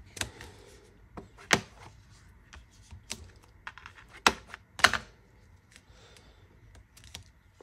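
Rubber stamp pressed onto paper from an ink pad during a scrapbooking tag project, a series of sharp irregular taps and thumps spaced unevenly, close and fairly crisp, with no talking.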